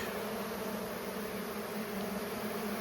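Honey bees humming inside an opened hive during a spring inspection, a dense, steady buzz from many bees heard up close and alone, continuous throughout.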